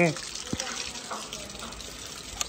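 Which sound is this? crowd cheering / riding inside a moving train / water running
water running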